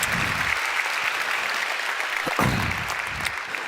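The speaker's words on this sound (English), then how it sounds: "you're more than welcome to give them a round of applause" An audience at a local community gathering claps steadily in a dense, sustained round of applause that stays even and fairly close throughout.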